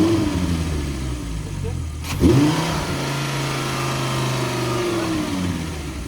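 A car engine with an exhaust manifold leak, under repair, revs and holds at a steady raised pitch, with a sharp blip and drop near the two-second mark before climbing and sustaining again, close and fairly loud.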